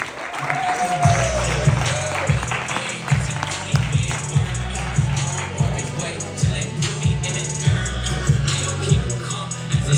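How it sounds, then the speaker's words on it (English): An audience claps after a speech in Chicago, with steady applause and scattered low thumps running continuously at moderate loudness alongside some crowd murmur. "Let's give Eddie another big hand clap."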